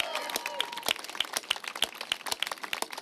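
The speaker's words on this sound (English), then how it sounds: "please join me in a big round of applause for these incredible park champions" Outdoor crowd applauding park champions Sid and Karen Brandy at the opening of Sunset Dunes Park, a moderate patter of scattered hand claps with a few sharper individual claps standing out, steady for a few seconds.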